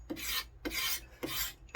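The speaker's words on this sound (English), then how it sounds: "Get our knife, and even though this isn't a coated handle, I just scrape off all my handprints and any dirt." A knife blade scrapes along a new, uncoated wooden axe handle in three slow, even rasping strokes with brief gaps, close and clear, followed by the start of a fourth, no voices.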